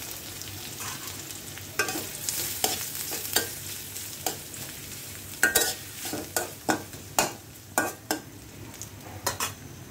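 Banana peel paste fries in a pan with onion, a low sizzle running under a string of sharp, regular scrapes and taps of a spoon against the pan.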